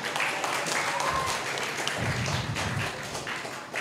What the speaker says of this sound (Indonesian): Boleh kasih tepuk tangan buat Fatih, teman-teman.